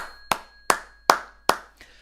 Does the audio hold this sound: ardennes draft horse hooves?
no